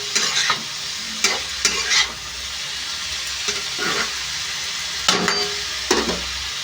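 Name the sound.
potatoes frying in an iron pan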